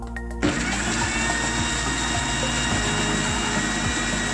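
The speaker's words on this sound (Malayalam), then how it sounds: "നമുക്കിതെല്ലാം കൂടി മിക്സിയിൽ ഒന്നിട്ട് നല്ല രീതിയിൽ അടിച്ചെടുക്കാം" Electric mixer grinder switched on to blend a bread, egg and ingredient mixture, starting abruptly after a brief pause and whirring loudly and steadily with a grinding, rattling motor tone throughout.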